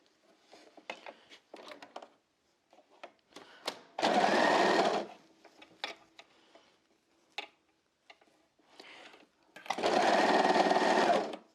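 Sewing machine stitching the sleeve onto a garment in two loud steady bursts of rapid stitching, each a few seconds long, separated by quieter clicks and fabric handling.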